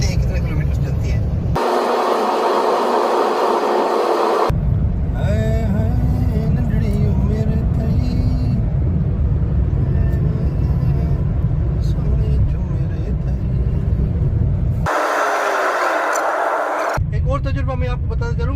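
A car running on its low-fuel warning light with the air conditioning switched on, its cabin engine rumble steady and moderately loud under someone talking, with short breaks where the sound cuts away.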